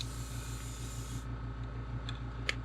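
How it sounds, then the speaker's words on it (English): An airbrush sprays Quicksilver Chrome paint at about 30 pounds of pressure while painting a custom Blue Shad Glide, a steady close hiss that cuts off partway, with a low machine hum and a few faint clicks underneath. "This stuff's hard to spray with detail, especially at damn 30 pounds of pressure."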